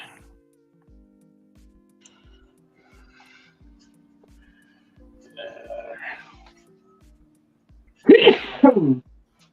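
One sharp, loud sneeze bursts out close by near the end, after a stretch of near silence with faint rhythmic ticks and a brief murmur.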